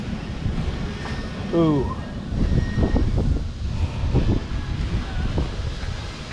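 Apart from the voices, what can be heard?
wind blowing outdoors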